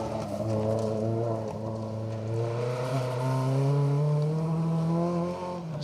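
A Mark II rally car on a gravel stage of Rally North Wales, its engine droning steadily and rising in pitch as it accelerates, fairly close and loud with no talk.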